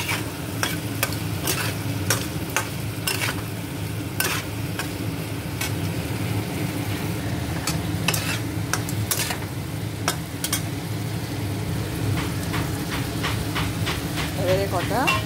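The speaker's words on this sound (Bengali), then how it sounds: "এবার আদা টমেটোটা ভালো করে ভেজে নেবো।" Ginger and tomato fry in a pan, giving a steady sizzle. A spatula scrapes and taps against the pan in irregular bursts as the mixture is stirred.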